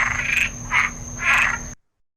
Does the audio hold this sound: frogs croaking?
yes